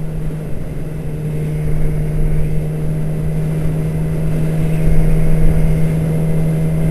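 A 2006 Yamaha YZF-R6 sport motorcycle engine drones steadily and loudly while riding, with a constant high-pitched whine and wind rush, the revs swelling slightly without pauses.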